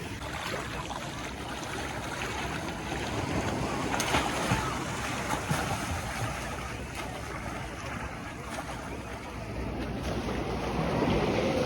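Sea waves wash and churn continuously beneath gusting wind noise on the microphone, a steady broad roar with no speech.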